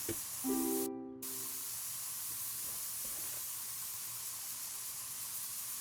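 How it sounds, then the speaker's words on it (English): Spray painting in the Spray Paint Simulator video game gives a steady, soft hiss that runs continuously with no talking, after a short tonal blip at the very start. "Sometimes it just takes you to just keep spraying the same spot and eventually it'll go."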